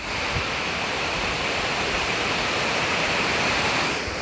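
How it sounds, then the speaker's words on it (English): Water rushes over the dam of the Mill Brook alewife fishway in a steady, loud, broad hiss as a sheet of lake water pours down toward the stream, heard up close and constant. "It's more of a sheet of rushing water as this edge of the lake empties down it toward the stream."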